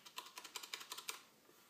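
Fast, crisp typing on a Leopold Tactile Touch mechanical keyboard with brown tactile switches: about ten close, clicky keystrokes in a quick, even rhythm, heard alone and fairly quiet, then a short pause and one last soft tap.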